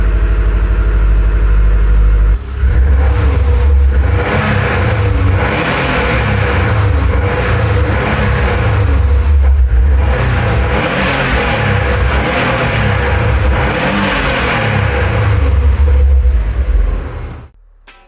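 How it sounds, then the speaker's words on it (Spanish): A Subaru WRX boxer turbo engine starts and runs loud and close, rumbling steadily and then revving up repeatedly in rising and falling surges before cutting off abruptly at the end. "El Boxer Turbo del Subaru llenando el espacio con ese sonido inconfundible."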